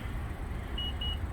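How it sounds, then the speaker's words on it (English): Power liftgate on a 2021 Honda Odyssey EX-L emits two short, clear electronic beeps in quick succession while its open height is being set, heard over a steady low rumble of background noise. "you just pull it down a little bit and then press and hold and beep beep"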